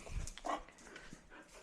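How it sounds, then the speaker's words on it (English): Dogs bark near a garage where a racecar is being tuned up, a couple of sharp, loud barks at the start followed by quieter, scattered yelps and background noise. "And the dogs start barking, so these guys are back in here."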